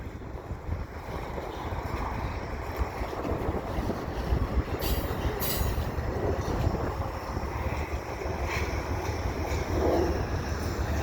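A CN intermodal freight train with a General Electric locomotive rumbles past at a distance, a broad steady roar with wind buffeting the microphone and a few faint metallic squeals.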